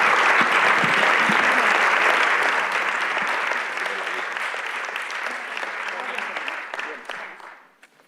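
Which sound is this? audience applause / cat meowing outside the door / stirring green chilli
audience applause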